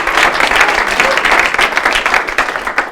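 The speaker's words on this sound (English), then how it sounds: "give him a round of applause" An audience applauds steadily at a speech contest, dense sustained clapping from a crowd filling the room, close and loud throughout.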